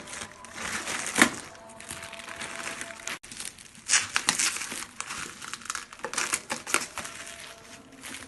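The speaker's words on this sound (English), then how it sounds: "So let's unbox this. Pretty much good packaging." Cardboard and plastic packaging of a TP-Link TL-WR840N wireless router being opened, with close crinkling, rustling and tearing in uneven bursts.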